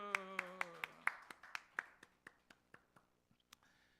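A small church congregation at a Wednesday service claps, with about fifteen distinct, evenly spaced claps that grow fainter and sparser, alongside faint background talk.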